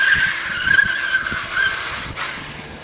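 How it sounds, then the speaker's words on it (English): A car slides and skids around a skid training course laid out with left and right turns, its tires squealing steadily in a sustained high whine over a low engine rumble, fairly close. "how the car feels when it slides. When it breaks away"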